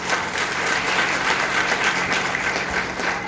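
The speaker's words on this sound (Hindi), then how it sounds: "मैं चाहूंगा मेरे माँ के लिए जोरदार ताली होना चाहिए।" A seated crowd at a business gathering claps steadily and loudly in honour of a speaker's mother, a dense unbroken patter lasting a few seconds.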